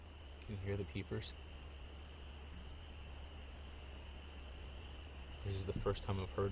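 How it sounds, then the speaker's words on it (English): Spring peepers call at a lake, a dense, faint high chorus running steadily throughout, with someone speaking briefly at the start and again near the end. "Can you hear the peepers?"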